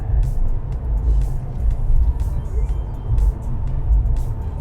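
A Mercedes CLS 53 cruising at about 120 km/h, giving a steady low road and engine rumble with tyre and wind noise throughout, fairly loud and close, with no talk over it.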